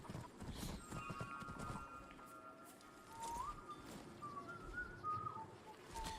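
Horse hooves clip-clop steadily in the Skyrim video game, a close, rhythmic trot on hard ground with bright whistling tones and birdlike calls above it.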